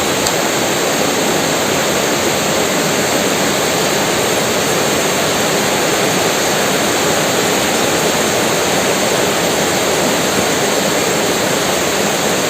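Rain falls beside the Canoli canal river in a dense, unbroken wash of hiss that stays loud and even throughout, with no voices.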